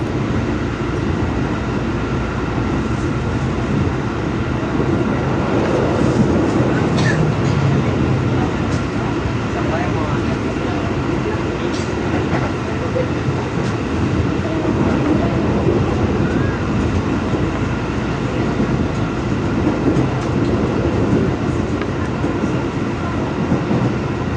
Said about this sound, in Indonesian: KRL yang saya naiki sebentar lagi akan tiba dan berhenti di stasiun tujuan saya, yaitu Stasiun Universitas Indonesia atau Stasiun UI.